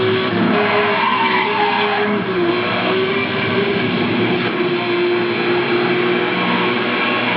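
A car engine in a racing video game is pushed to the redline in seventh gear on a downhill stretch, giving a loud, steady high-revving drone with a sustained whine that barely shifts in pitch.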